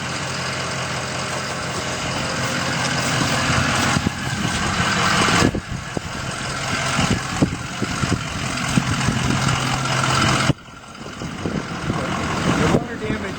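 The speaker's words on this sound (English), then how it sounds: "There's our truck." A water damage restoration work truck idles outdoors with a steady low rumble, broken by abrupt cuts, while people talk nearby over the engine.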